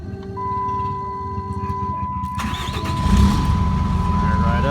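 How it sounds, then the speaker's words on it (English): A Ram pickup's 5.9 Cummins diesel with a hard-start problem cranks with a whirring starter, then catches and fires up into a loud, clattering idle. "So now we'll go ahead and start it, see if that fixed our starting problem."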